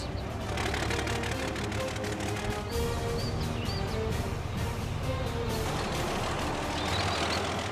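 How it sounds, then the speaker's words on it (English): A Scammell Pioneer lorry from the 1920s drives off-road, its heavy engine giving a steady, loud, dense roar throughout, with faint high chirps mixed in near the middle. "This is a huge lorry, for goodness sake."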